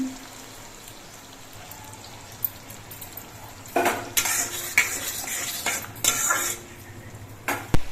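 Spice paste frying in a pan for a mustard-oil parshe fish curry, with a quiet opening before clattering spatula strokes against the metal pan and a soft sizzle take over in the second half.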